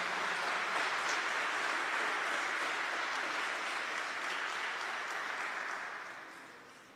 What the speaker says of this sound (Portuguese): Pode aplaudir Nossa Senhora.